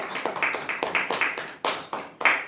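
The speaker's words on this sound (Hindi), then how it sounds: "स्पीकर ऑन करके ताली बजाइए।" A congregation claps hands in steady, rhythmic beats during a fasting prayer service, loud and close, with about a dozen sharp claps and little speech.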